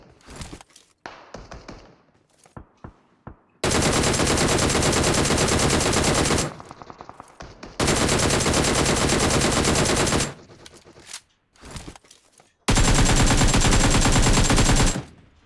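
Loud sustained bursts of automatic gunfire from a warehouse-and-tower shooter game map, three long rattling volleys separated by quieter scattered single shots and thuds.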